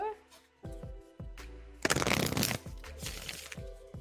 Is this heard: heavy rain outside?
no